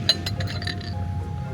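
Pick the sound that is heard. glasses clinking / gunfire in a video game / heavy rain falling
glasses clinking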